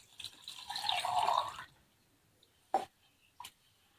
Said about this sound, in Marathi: इथे एक ग्लास पाणी घेतलेलं आहे